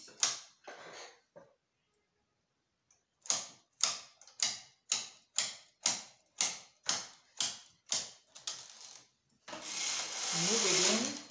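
Knitting needles click in a quick, even series of about a dozen sharp taps while hair ruffles are knitted, close up, with short bits of talk at the start and a louder rustle at the end.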